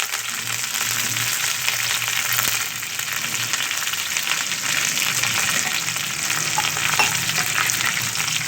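Onions, green chillies, curry leaves and tempering seeds frying in hot oil in a pan, giving a steady, dense sizzle and crackle that runs unbroken from start to finish with no talking.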